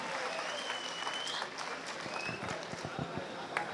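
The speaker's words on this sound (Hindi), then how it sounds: "जोरदार तालियों के साथ अभिवादन करें" Crowd applause welcoming an advocate onto the stage at a community gathering in Chhatarpur, a dense roomful of clapping with scattered louder claps and some voices mixed in.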